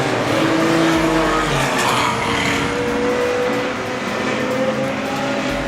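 Stock cars race around a speedway at the New Zealand Midget Car Championships, engines roaring loudly and continuously as cars sweep past, with rising and falling revs and no clear voices.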